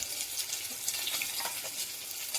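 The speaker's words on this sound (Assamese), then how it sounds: "এতিয়া অলপমান লৰাই দিম।" Sesame chicken gravy sizzling in a pan while being stirred, a steady bright hiss with faint scraping, moderately quiet and close.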